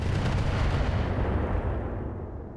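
Heavy weapon fire in the mech combat game RogueTech, aimed at a heavy mortar turret: a dense, loud, sustained rumbling blast that holds steady and then slowly tails off, with no talking.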